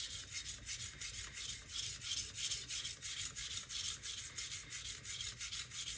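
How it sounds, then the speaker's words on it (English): A hard steel knife is ground on a coarse diamond stone in rhythmic back-and-forth strokes, a gritty rasping scrape repeating roughly twice a second, close and moderately quiet, with no talking. "It's not doing nothing because it's diamond stone, so diamond, it's cutting that steel anyway."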